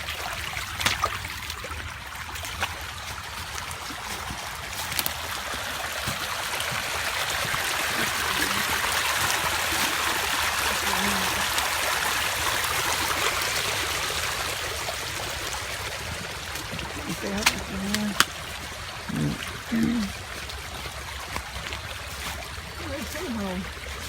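Creek on a farm running high after torrential rain, a steady broad rush and trickle of flowing water heard from nearby, with faint intermittent sounds and light activity around it but no clear speech.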